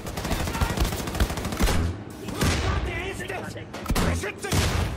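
A napalm gun firing in Wolfenstein: The New Colossus, with loud rapid bursts and sustained whooshing roars, broken by sharp impacts, while someone talks over the gunfire.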